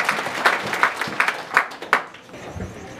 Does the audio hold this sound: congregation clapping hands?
yes